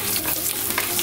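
Rice stirred in hot coconut oil with mustard seeds, curry leaves and dried red chillies, giving a steady close sizzle with scraping stir strokes and a few brighter bursts near the end.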